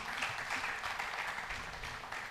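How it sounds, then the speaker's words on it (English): Faint, steady applause from an audience at a university system launch event, a soft continuous patter of clapping with no clear voices. "Let us welcome this team with a befitting hand clap."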